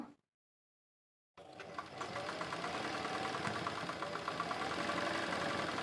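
A sewing machine runs a rice stitch with a fast, even mechanical whir and rapid ticking stitches, starting after a moment of silence and carrying on steadily, close by.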